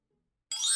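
A smartphone message notification chimes once, a bright tonal ding rising out of silence and ringing on for the final moments, loud and close with no talk.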